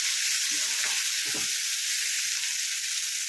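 Onions frying in oil for a Bengali egg dish, a steady broad sizzle throughout with a few brief stirring scrapes near the start, close and continuous with no voices.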